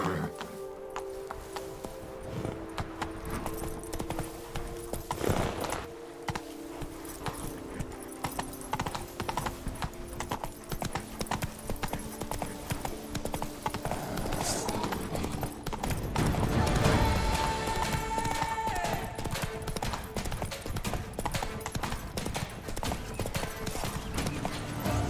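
The horse Roach gallops in The Witcher 3 with a steady, rhythmic clip-clop of hooves close by that runs throughout over game ambience, with a brief whinny and faint sounds of the game world.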